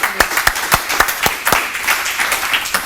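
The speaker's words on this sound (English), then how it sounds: "can we please give Fiona a big round of applause for putting this together" A small audience claps at an event, individual hand claps sounding sharp and distinct in a loose, uneven rhythm rather than a dense roar, close and fairly loud throughout.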